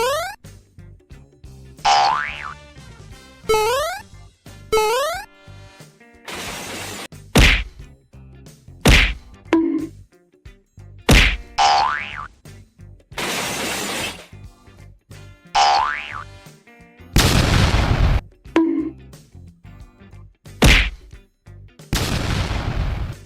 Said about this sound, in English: let me take you through a time lapse of every single bonk in this second half